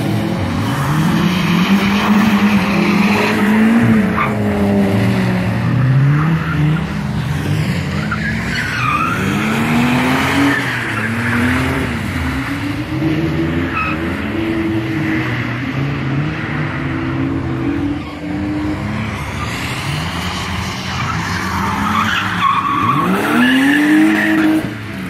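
A drift car slides around a Nürburgring driving-school course, its engine revving and dropping constantly while tires squeal and skid in long wavering howls, loud and close for the full stretch without speech.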